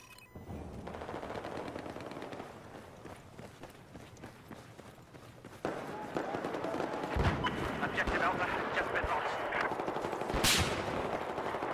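Battlefield 4 multiplayer on the Lancang Dam map brings rapid bursts of automatic gunfire and distant explosions under steady game noise, growing louder midway, with a player's voice talking over it.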